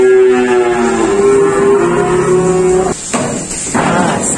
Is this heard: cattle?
yes